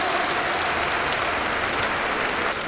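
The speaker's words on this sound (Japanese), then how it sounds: "今一度大きな拍手をお送りください。" A large crowd in a domed baseball stadium applauds after a ceremonial first pitch, a broad, steady wash of clapping that holds at an even level from start to finish.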